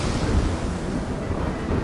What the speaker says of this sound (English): In the rising roar of the sea